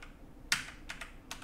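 Arrow keys on a computer keyboard tapped a few times while adjusting a color slider during HueForge filament painting work, giving three or four separate close, light clicks against a quiet background.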